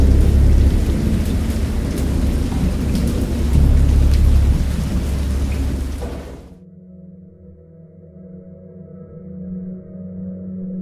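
Thunderstorm in the Lovecraft-inspired video game Dagon: loud, dense rain roars with rolling thunder rumbles for several seconds, then cuts abruptly to a quiet low ambient drone with faint tones.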